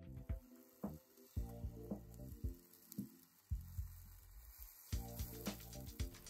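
Pancakes frying in a pan make a quiet, steady sizzle, overlaid by a series of soft rhythmic taps and scrapes from a spatula against the cookware.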